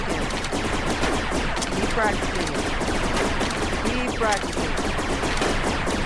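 Rapid laser tag gun shots in the Rec Room video game, fired in a fast continuous stream at close range, with a voice briefly speaking over them.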